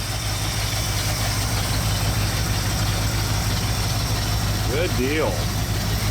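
A 1980 Ford F-350 service truck engine idles steadily with a constant low rumble and vibration, running off its own fuel tank, while someone talks briefly over it nearby.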